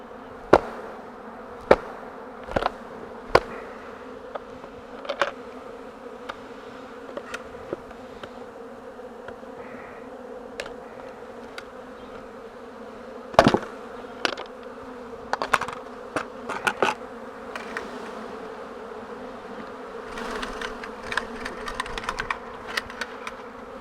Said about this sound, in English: All these bees are going to work their way in here